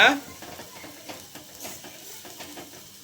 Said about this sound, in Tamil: பச்சை வாசனை போகிற வரைக்கும் இதை ஸ்லிம்மில் வச்சு நம்ம வதக்கிக்கணுங்க